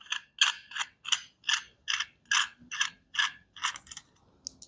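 A ratchet wrench loosens a bolt on a bear claw latch for a 1947 Ford COE, giving a close, crisp series of about a dozen evenly spaced metallic clicks.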